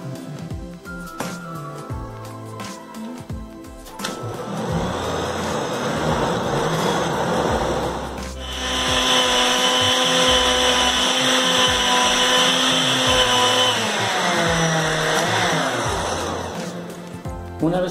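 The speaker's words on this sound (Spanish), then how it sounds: "Y lo vamos a licuar." Kitchen blender liquefying plantain with milk and sugar, a loud continuous whirring motor that starts after a few seconds, rises in pitch and strain midway, then winds down near the end.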